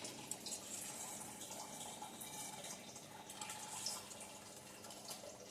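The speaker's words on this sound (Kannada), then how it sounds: "ನಾನು ಒಂದು ಬೌಲಲ್ಲಿ ನಾನು ನೀರನ್ನು ಹಾಕ್ಕೊಂಡು" Water pours steadily into a bowl in a home kitchen while papad dough is being prepared, a continuous close splashing trickle with no voices.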